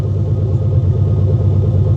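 A flathead V8 engine idles roughly and steadily, a loud, close, low rumbling drone with no talk over it.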